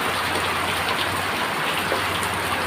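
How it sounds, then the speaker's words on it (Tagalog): Heavy, steady rain pouring down on surfaces outdoors during a prolonged rainy spell, a dense continuous hiss filling the whole moment without pause. "Hindi pa rin humuhupa ang ulan."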